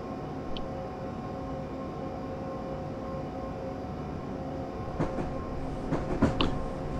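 Class 377 Electrostar electric train in Train Simulator 2013, a steady rumbling run with continuous low hum, followed by a few sharper clatters and bumps near the end, no voices.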